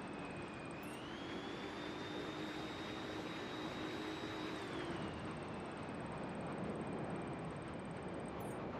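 Airplane engine in the Just Cause 3 video game, a steady, loud jet-like drone with a whining tone that rises and later drops slightly, heard alone without talk.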